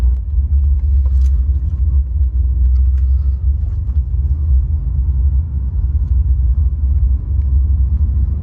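A V8 twin-turbo car cruising on the road, its deep engine and tyre rumble steady and close throughout, with a few faint rattles on top and no talk.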